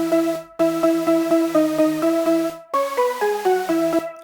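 A dry, layered synth lead from a remake, played without effects, steps through a bright repeated melodic riff of short plucked-sounding notes, with a brief gap midway before the phrase resumes, loud and alone.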